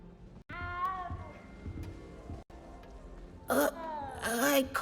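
A small cat in a video game lets out several wavering meows at close range, with a short gap between calls and a louder burst of cries near the end over low background game sound.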